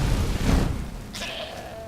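Goat in the Skyrim video game gives a single short bleat after a muffled low thump, fairly faint over game ambience.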